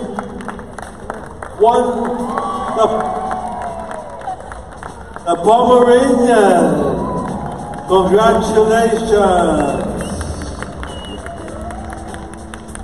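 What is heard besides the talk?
audience applause for the best in show winner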